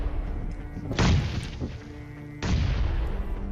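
Two loud, close grenade blasts go off in the PUBG battle royale game around Pochinki, each a sharp boom with a rumbling tail, about a second and a half apart.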